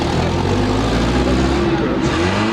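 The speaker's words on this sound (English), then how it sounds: "that iconic red block engine still turns over with a roar" A rusty old car with missing windows and a battered cabin, driven on a dirt road, its iconic red block engine roaring loudly and steadily up close throughout.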